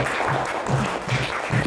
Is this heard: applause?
yes